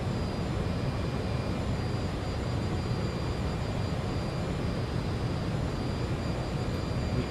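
A Fokker 28 airliner on approach to land at Hobart in Microsoft Flight Simulator 2024 gives a steady, loud, broadband jet engine roar and wind rush that holds unchanged throughout, with no voices.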